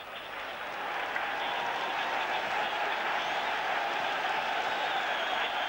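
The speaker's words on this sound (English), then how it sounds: "That lifted the crowd a bit." A stadium crowd at a Euro 1992 qualifying football match lets out a steady, swelling roar and applause after a curling shot, a broad continuous wash of noise that rises in the first second and holds.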